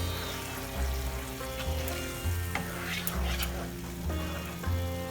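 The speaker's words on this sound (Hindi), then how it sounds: "अभी हमें और 3-4 मिनट सॉटे करना है।" Green masala paste for a salmon fish curry sautéing in a pan, giving a steady, close sizzle and frying hiss with occasional stirring, heard alone over a soft background music bed.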